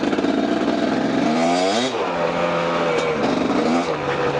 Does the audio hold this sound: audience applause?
no